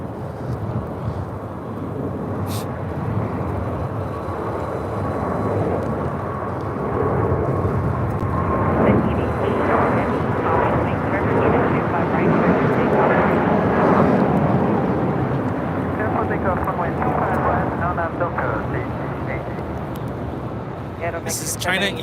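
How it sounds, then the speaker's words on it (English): A China Eastern Boeing 777-300ER bound for Shanghai takes off, a broad jet roar swelling and then easing off in the distance while people talk over it throughout. "This is China Eastern Airlines 586 taking off to Shanghai on a 777 300ER"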